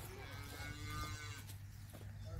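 A cow moos in a long, low drawn-out call close by, with faint background noise and no talk.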